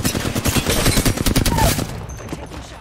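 Rapid bursts of video game gunfire from a squad shooter, loud and close, crackling in quick repeated shots for about two seconds before tapering off into quieter ambience.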